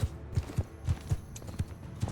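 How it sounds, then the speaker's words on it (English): Horse hooves clip-clop in Bannerlord, a steady rhythmic trot of close, thudding beats at roughly four per second, with no talk over them. "My horse is really slow."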